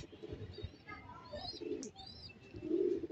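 A light checker racing pigeon coos softly in a loft, with low throaty coos and a few faint chirps from other birds nearby, quiet and close.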